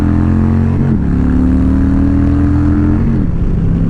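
A Harley-Davidson Low Rider S motorcycle with its 114 engine accelerates hard, its loud, close exhaust droning in a steady rumble that dips and climbs again at two gear changes, with no voices present.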